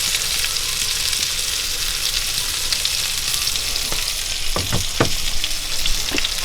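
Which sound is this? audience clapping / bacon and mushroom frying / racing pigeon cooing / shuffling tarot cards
bacon and mushroom frying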